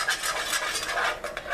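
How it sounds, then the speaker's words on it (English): A whisk stirs milk in a bowl for custard, producing quick, light scraping and sloshing strokes in a steady rhythm, close and moderately loud. "I am going to go ahead and put my whisk in here with the milk."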